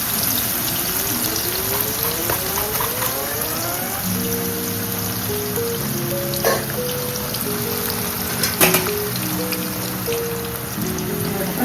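Raw banana slices for chips fry in hot oil, a steady crackle and sizzle that keeps going and stays close throughout, with nobody talking.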